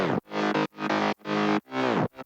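Three stacked bass layers of an FL Studio drop play together in loud, chopped bursts with short gaps between them, thick distorted tone with bright harmonics and no voices over it.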